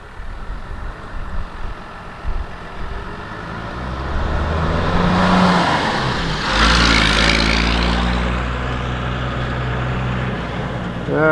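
A pickup truck engine running nearby and revving, a broad low rumble that swells louder midway and stays steady, with faint voices in the background.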